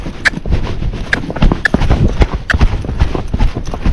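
A Tennessee Walking Horse is worked under saddle, its hooves striking the ground in a quick, steady clip-clop rhythm, close and loud throughout.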